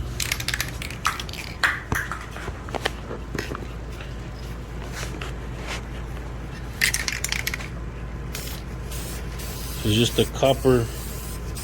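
Copper head gasket spray hisses from an aerosol can in a garage during work on a Honda Civic EG with a Rotrex supercharger, coming in short irregular bursts with clatter and brief talk around it.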